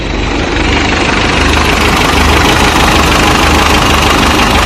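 Restored 1988 Toyota pickup 4x4 engine idling up close, a loud, steady low rumble with a faint knocking texture and constant vibration throughout.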